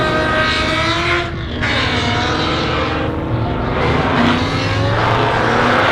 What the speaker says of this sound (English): We're about to go drifting, guys